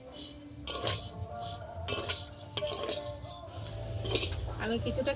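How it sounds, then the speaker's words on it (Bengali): Vermicelli fried in hot ghee in a wok is turned with a metal spoon, giving repeated close scrapes and clinks against the pan over a faint, steady frying hiss. "ভালো করে নেড়ে একটু লাল লাল করে ভেজে নেব।"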